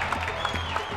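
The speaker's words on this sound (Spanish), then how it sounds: "unos aplausitos, por favor" A television studio audience claps for a guest on a football talk show, giving a dense, steady patter of many hands at close range with no break.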